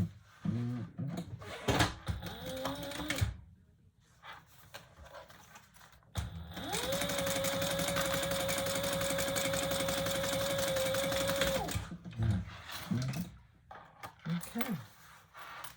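Sewing machine stitching a leather retro-style sling bag, a steady mechanical whir lasting several seconds in the middle, framed by brief handling clatter and talk before and after.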